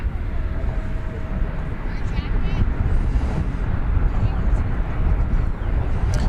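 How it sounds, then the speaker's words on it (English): An American Airlines Airbus A321 jet rumbles at DFW Airport as a continuous, fairly distant broadband roar lasting several seconds, with a faint thin tone early on. "That was Flight 2081 from Sacramento, American Airlines and Airbus A321."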